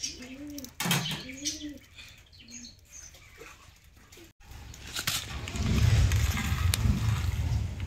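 Pigeons coo softly in low repeated phrases while being fed a millet and grain mix, followed by a louder rustling, fluttering burst of activity near the end.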